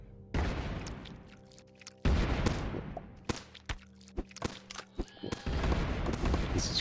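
Grenade blasts from the video game Keplerth, several loud booms with long decaying rumbles, a sharp cluster of smaller cracks between them, and a final burst near the end.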